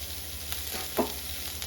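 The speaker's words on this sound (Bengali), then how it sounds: "এবার আমি সব একসঙ্গে ভালো করে ভেজে নেব।" Eggplant sizzles in a pan for a Bengali village-style dish, a faint steady frying hiss with one brief stirring scrape near the middle.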